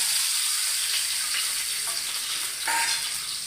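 Steady, loud sizzling of shallots frying in hot oil with popped mustard seeds, with a brief stir or scrape partway through and no voices.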